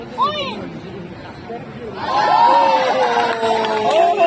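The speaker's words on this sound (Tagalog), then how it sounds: "Crowd goes crazy!" A street magic show crowd at the Vivid Festival in Sydney breaks into loud cheering and shouting halfway through, swelling from background chatter into a sustained roar with excited voices on top.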